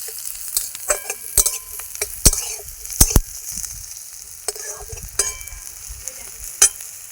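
Onion and garlic fry in oil in a pan, giving a steady close sizzle with repeated sharp scrapes and clinks of stirring at irregular intervals, with no voices.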